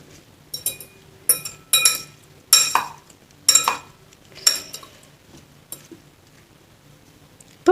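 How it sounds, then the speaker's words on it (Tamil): Apple chaat being stirred with mint leaves in a bowl, a spoon clinking and scraping against the dish in a series of short, bright bursts with brief pauses between, close and fairly loud, no voices. "இப்போ நல்லா மிக்ஸ் பண்ணிக்கலாம்"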